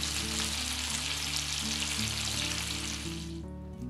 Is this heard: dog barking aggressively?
no